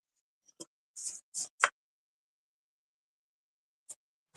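Cardstock card base, 4 1/4 by 11 inches, scored at 5 1/2 inches with a scoring tool; a few short, close scraping strokes in quick succession, then two more brief scratches after a pause, with no talking.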